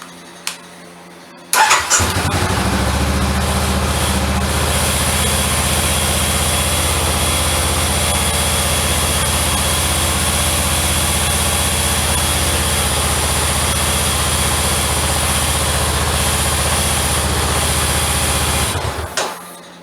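A Honda CB500X motorcycle engine fires up and idles steadily and loudly up close for about seventeen seconds, then cuts off abruptly near the end.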